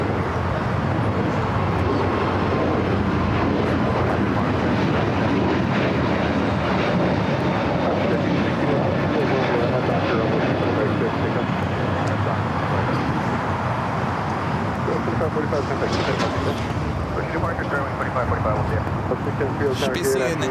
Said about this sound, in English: our next takeoff is Spirit Airlines, Flight 2545, heading to Indianapolis